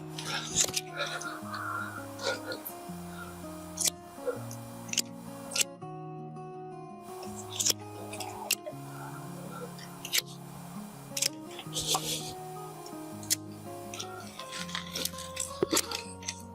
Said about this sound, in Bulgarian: И сега вече може да започна да режа с ножицата.